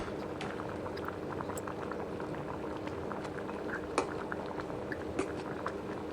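Curry with greens simmers on a stove, giving a faint, steady bubbling with scattered small pops and blips and no voices.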